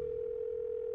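A steady telephone dial tone in a cartoon, an unbroken pure hum held at even loudness for about a second with no voices over it.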